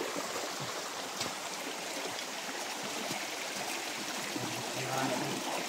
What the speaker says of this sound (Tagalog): Baybayan na namin itong sapa